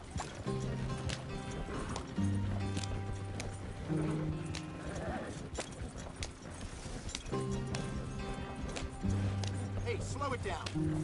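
Horses gallop in a PS4 video game, a rhythmic clip-clop of hooves under a sustained music-like drone, with characters talking over the scene.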